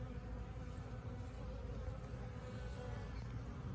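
Hygienic survivor honeybees work in a newly set-up hive, giving a dense, continuous buzzing hum at close range with no talk over it.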